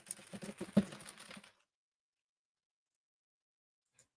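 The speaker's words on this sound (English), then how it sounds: "Were you just mashing your keyboard?" Someone mashes a computer keyboard rapidly for about a second and a half, a dense burst of clattering key presses that stops abruptly, followed by near silence and one faint click.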